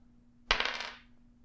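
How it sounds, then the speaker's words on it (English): Dice are rolled once for a board game, a single sharp rattling clatter that fades over about half a second in an otherwise quiet room. "So I'm going to roll the dice."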